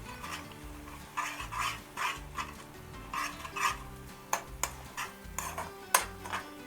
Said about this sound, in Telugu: జింజర్ గార్లిక్ పేస్ట్ కూడా వేసేసి కలుపుకోవాలి.